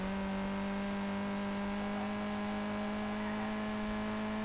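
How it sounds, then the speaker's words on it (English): A steady, loud engine hum with a constant whine runs throughout: a turbocharged SR20DET engine in an R32 Skyline, in the game SLRR, held at even revs. "I really like the turbo sounds"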